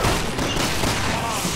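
Rapid gunfire bursts in Resident Evil 6 co-op play at a port area, loud dense shots crowding the short stretch without pause.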